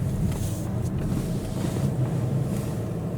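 A Volvo XC car drives along with a steady, close low-frequency engine and road rumble, holding even and loud throughout with no talking.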